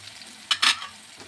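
Jaggery being stirred into bitter gourd gojju simmering in a pan, with a few quick scraping strokes and soft sizzling that stop after about a second.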